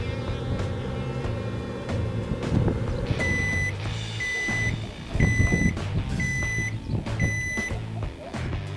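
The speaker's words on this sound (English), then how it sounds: "Why is it beeping already? Smarter than us. It is. It says that there's metal in there and doesn't like it." A microwave oven with metal inside gives a series of five evenly spaced electronic beeps over its humming, rattling run, each tone short and clear.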